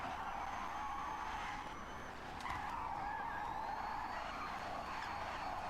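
A car's engine drones steadily under a long tire skid in the Forza Horizon racing game, a continuous gritty roar that swells slightly midway, fairly quiet and without talk.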